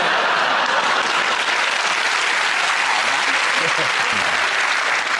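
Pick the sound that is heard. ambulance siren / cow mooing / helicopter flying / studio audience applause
studio audience applause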